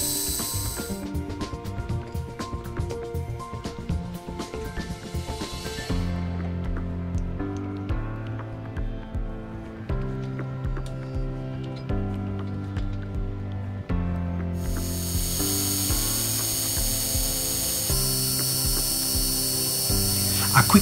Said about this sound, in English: A quick facing cut, followed by a cleanup of the outside diameter